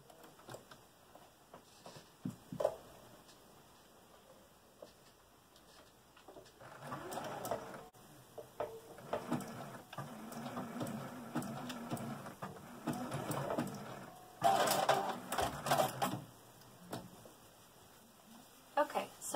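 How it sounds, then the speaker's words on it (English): Sewing machine zigzag stitching along the edges of fabric pieces for a drawstring bag, a moderate whirring run of stitching in the middle stretch, with intermittent bursts and fabric handling around it. "now I'm going to go ahead and zigzag stitch all along here"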